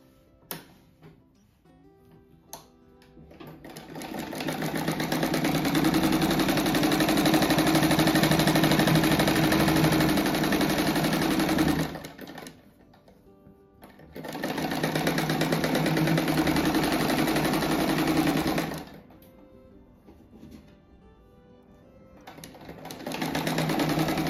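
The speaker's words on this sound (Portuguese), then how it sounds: "Agora eu vou costurar essa faixinha também toda a volta dele." A sewing machine stitches a fabric strip around a square-patchwork envelope cushion, running in two long steady bursts of rapid, even mechanical chatter with quiet pauses between, close and clear.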